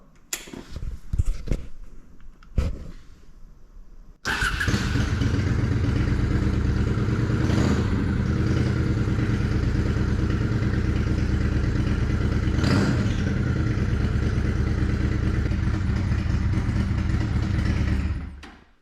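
A 2007 Honda Shadow VLX 600 (VT600C) V-twin starts after a few clicks and clunks, then idles steadily and close by with an even, throbbing rumble for about fourteen seconds before shutting off.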